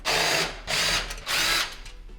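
A power driver backs Phillips screws out of a KitchenAid microwave panel in three short, loud whirring bursts separated by brief pauses, with no talking.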